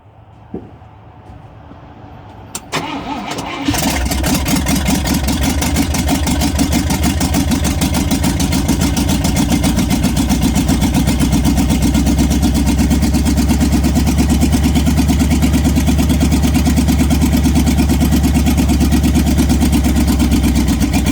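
A 1971 International 1510 tractor's 345 V8 engine cranks briefly, catches with a roar, then settles into a loud, steady, rumbling idle that carries on unbroken.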